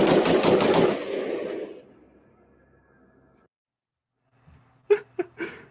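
Gunshots from a real gun of another caliber, not fireworks: a rapid burst of loud, close cracks at the start, then silence and a few sharp, separated shots near the end.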